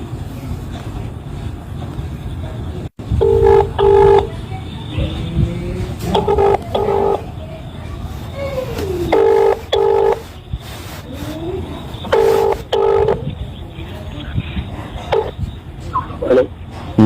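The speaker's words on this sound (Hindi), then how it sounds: "तो अब मैं इसको कॉल लगा रहा हूं।" A phone call is dialed on speakerphone, with several short bursts of dial tones and ringing in a steady pattern over a noisy, windy background.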